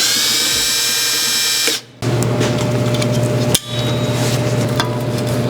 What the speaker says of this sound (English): You're just going to want to drill the center out here.